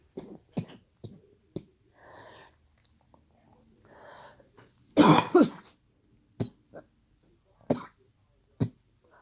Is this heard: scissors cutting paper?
no